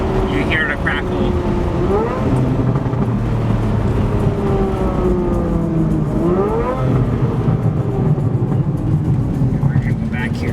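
A heavily modified Aston Martin Vanquish engine revving repeatedly, its pitch sweeping up and falling back in several bursts with exhaust crackle at higher revs, loud and close, with someone talking over it.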